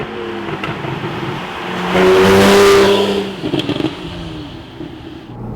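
A 2013 Porsche 911 Carrera 4 with a 3.4-liter engine and optional sports exhaust rumbles, then swells into a loud revving burst with a throaty exhaust note before settling back to idle.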